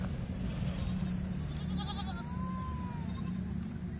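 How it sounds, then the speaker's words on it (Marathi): A Kota goat at a livestock market gives a short, faint, wavering bleat midway, set against a steady low crowd murmur and background rumble. "कोटा 1000 पट्टावाला बकरा आहे"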